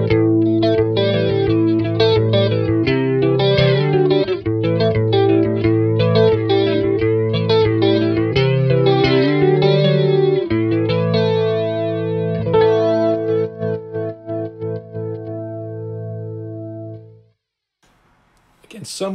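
Electric guitar played through an Electro Harmonix Electric Mistress-style flanger pedal, chords and picked notes swirling with a metallic, whooshing sweep, loud and continuous, fading out near the end with no talking.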